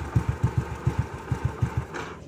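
A 1993 Honda Astrea Grand motorcycle engine chugs at idle with an even, close thumping beat, then cuts off and goes quiet near the end.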